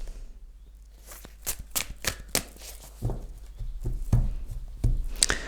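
Tarot cards being shuffled by hand for a reading, a series of crisp riffling bursts and soft slaps close up, fairly quiet, with no talking.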